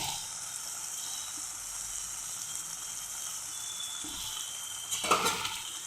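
Garlic chutney mix with salt and Kashmiri chili powder sizzles steadily in a pan over full flame, a constant close hiss that swells briefly with a stir near the end.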